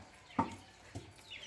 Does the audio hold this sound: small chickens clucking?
yes